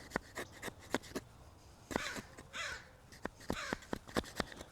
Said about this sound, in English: Sorry about that crow, guys.